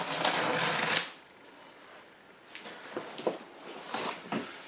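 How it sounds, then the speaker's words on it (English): A blade slicing through tape on a big cardboard package: a loud ripping scrape first, then quieter scattered scratches and crinkles of cardboard. "It's a big package, as you can see, so I am gonna cut this open."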